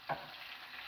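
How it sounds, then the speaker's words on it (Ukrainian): Soft, steady frying hiss in a pan with a brief scrape or stir near the start, fairly quiet throughout. "Смажились добре"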